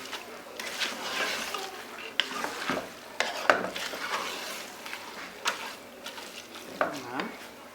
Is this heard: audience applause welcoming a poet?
no